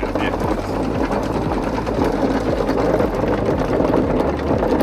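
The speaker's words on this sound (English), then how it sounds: "we can start picking up our anchor" A sailboat's anchor is hauled up from the Georgia Intracoastal Waterway, giving a loud, steady mechanical whirring and grinding with a rhythmic pulse throughout, with faint voices in the background.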